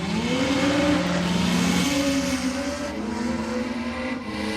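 Drag racing at Sydney Dragway: a Mazda rotary J13B-powered car runs against an FPV F6 Typhoon. Loud, close engine roar with rising revs throughout, no talk.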